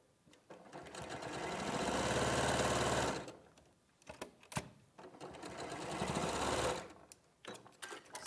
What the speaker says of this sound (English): When you sew them together on the white bit towards the join, because that way it won't move